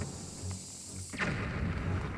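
Bomb exploding in the video game Zelda: A Link Between Worlds, one muffled boom midway over a steady game background, no speech.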